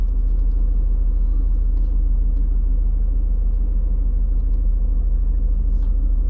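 A 2021 Aston Martin Vantage Roadster idles low and steady while backing up, a constant deep engine rumble filling the whole stretch with no change in pitch or load.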